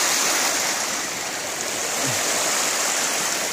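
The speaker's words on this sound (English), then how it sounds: "I've come down to the water's edge just to see if I can get you the speed of how that's running." Flood tide water rushes steadily through the breach at Porlock Marsh, a loud, continuous broadband roar close at hand with no voices.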